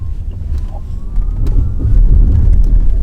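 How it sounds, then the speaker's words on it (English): An Audi e-tron electric car rolls over a railway crossing, heard from inside the cabin as a steady low road rumble and wind buffeting that swell slightly, with no distinct jolts and no talking. "we're about to go across a railway crossing, so we will listen and hear to, you know, how does the car sound"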